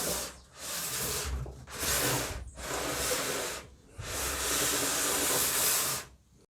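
A Bosch GKS 150 circular saw slides along a homemade guide in four long, loud, hissing rubbing strokes separated by short pauses, close by with no voices.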